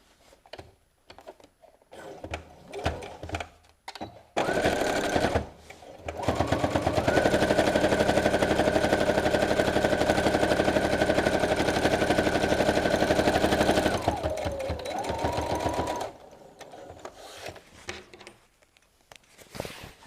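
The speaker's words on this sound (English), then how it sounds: "And then we're going to top stitch on that." A sewing machine top-stitches a square cushion pad. Its needle hammers in a fast, steady run for about ten seconds, between brief starts and soft handling noises.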